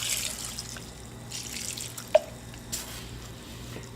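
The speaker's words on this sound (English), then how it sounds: "just use some water. Just pour it all over." Water splashing and trickling steadily over mung bean sprouts in a container, with a few soft drips and plops, close up and fairly quiet.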